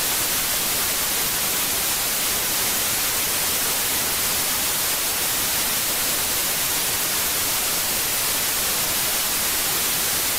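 Harsh, steady broadband static from the SalineWin GDI trojan running on a Windows PC, a loud continuous hiss filling the whole stretch with no variation and no voices.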